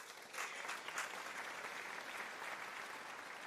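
A church congregation at a sermon applauds with continuous, fairly quiet clapping that sounds somewhat distant, with a few sharper claps standing out early on.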